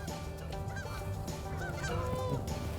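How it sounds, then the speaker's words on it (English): Several low-flying geese honk overhead in North Dakota in scattered calls over a low background rumble, moderately close, with no talking. "Oh yeah, low geese, good."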